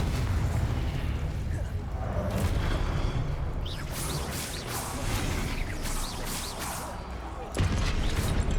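Blasting spell explosions in Hogwarts Legacy, booming bursts and rumbling blasts over a continuous dense roar, with a sharp loud impact near the end and a voice speaking over the action.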